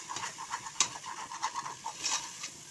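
Tomatoes with mint leaves sautéing in a pan for mutton biryani, soft sizzling with repeated spoon stirs and scrapes, fairly quiet and close.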